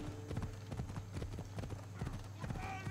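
A horse's hooves clip-clop steadily in Assassin's Creed Odyssey, a brisk, rhythmic trot heard up close alongside someone talking and a low hum of game ambience.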